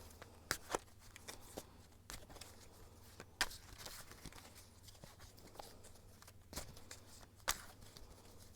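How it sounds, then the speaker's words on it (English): Soft riffling and papery slaps of tarot cards being shuffled, in irregular bursts with quiet pauses between, close and faint. "I'm gonna shuffle some of these archetype cards"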